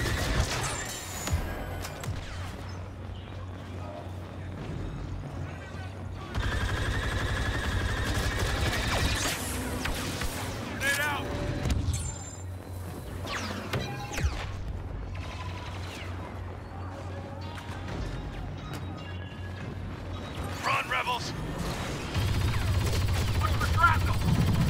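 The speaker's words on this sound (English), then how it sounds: "I just hit a guy from about 70 yards out with that secondary fire I was telling you about." Blaster fire crackles in rapid bursts during a Star Wars video game battle on Hoth, with repeated shots and mechanical clatter mixed under frequent excited talk.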